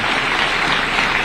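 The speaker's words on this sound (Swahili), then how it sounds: "Tuwapigie hawa watu wote makofi jameni." Dense, steady applause from a large crowd at a high school's 70th anniversary celebration, a continuous wash of clapping with no voices over it.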